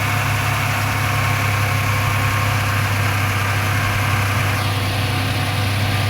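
A 1995 Suzuki Escudo idles smoothly and steadily with no misfires, a loud, continuous low engine hum with exhaust rumble that holds constant throughout, with no voices.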